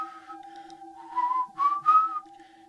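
A narrator whistles to imitate an eerie whistling sound: a few short, clear tonal phrases, rising notes over a steady faint hum, alone without talk.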